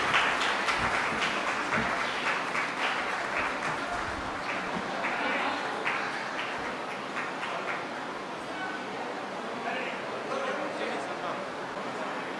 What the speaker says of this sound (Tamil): எல்லாரும் உங்களுடைய பலத்த கரகோஷங்களை கொடுத்து அவருடைய சேவையை பாராட்டுமாறு தாழ்மையோடு கேட்டுக்கிறேன்.